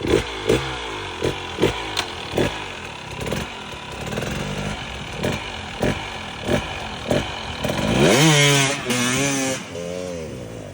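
Hard enduro dirt bike stuck on a slope, engine barking in a run of short, sharp revving bursts before a longer, rising rev as it launches forward, loud and close.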